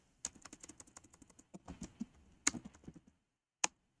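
Computer keyboard typed in quick, irregular bursts of close, crisp keystrokes, with a short pause and two sharper isolated key hits near the end, recorded alone without talk.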